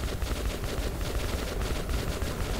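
Rapid automatic gunfire in the shooter game Metro 2033 Redux rattles out as a fast, even stream of close, loud shots over the whole stretch, with no talking.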